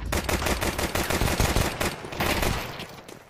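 Rapid bursts of automatic rifle gunfire from a Counter-Strike match, loud and continuous for about two seconds, then thinning into scattered shots and fading, with no talking.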